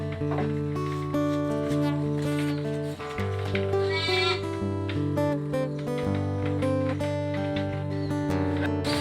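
A flock of sheep on a semi-free-range farm bleats continuously, with many overlapping, wavering calls layered close together and no pauses.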